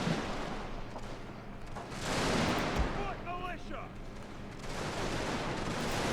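Musket volley fire from kneeling infantry in a Mexican-American War battle in Victoria Total War, a broad rumbling crackle of massed shots under game ambience, with a brief voice in the middle.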